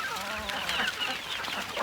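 Chickens on an open farm, roosters and hens, clucking and chattering together in a steady, busy flock sound, fairly close and continuous with no talking.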